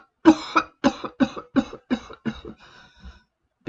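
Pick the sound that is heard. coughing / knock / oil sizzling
coughing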